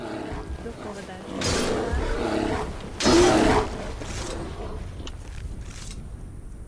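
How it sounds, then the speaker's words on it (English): A bear in a video game lets out two deep, growling roars, one long and one shorter and louder a moment later, over quiet in-game ambience. "We have a bear to kill."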